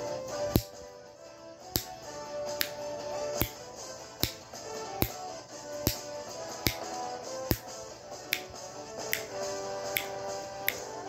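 Sharp finger snaps repeat at a steady, regular pace, about one every second, crisp and close with faint background hum between them.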